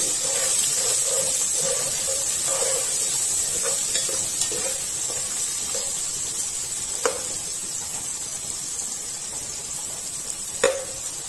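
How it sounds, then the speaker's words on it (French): Onions stirred in a hot pan while cooking a beef kidney and tomato roast: a steady sizzle with repeated scraping strokes of the spoon and a couple of sharp clinks against the pan. "Je remue."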